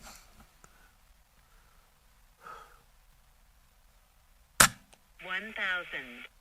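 An Air Arms S510XS Stealth Carbine .177 air rifle fires once in a backyard, a single sharp, loud crack after quiet handling sounds, followed by a voice speaking.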